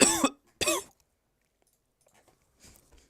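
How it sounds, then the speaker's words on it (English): Two sharp, close coughs in quick succession, followed by quiet faint rustling and small mouth sounds. "Coughing is not stopping."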